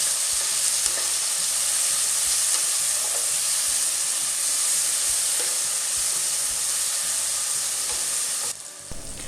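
Chopped tomato, onion and slit green chillies sizzle and hiss steadily in a hot pan while a spoon stirs them in soft repeated scrapes and taps, close and continuous, then the frying noise drops abruptly at the end.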